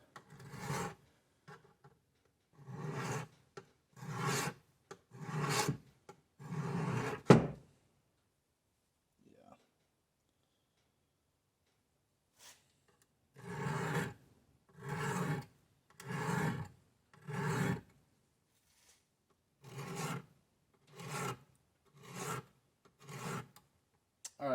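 A pocket knife blade is sharpened on an abrasive stone in rhythmic strokes, each a loud gritty rasp, in two runs separated by a quiet pause.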